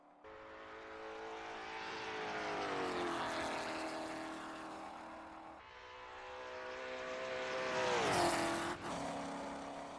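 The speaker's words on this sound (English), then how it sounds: "Got a good V8 sound too." A V8 race car engine in Assetto Corsa roars through two rising passes, revving up in pitch, easing off, then climbing again with a sharp blip near the end.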